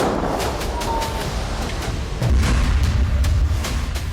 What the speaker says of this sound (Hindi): जबालिया कैंप में हमास के लड़ाकों ने इजरायल के मरकावा टैंक को धमाके में उड़ा दिया